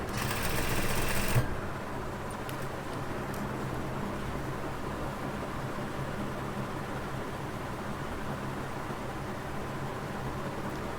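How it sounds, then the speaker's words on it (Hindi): Sewing machine stitching the edge of baby frock fabric, a loud steady whir lasting about a second and a half, then a long stretch of low background hiss. "इसके किनारे पे भी सफाई से सिलाई लगा लें"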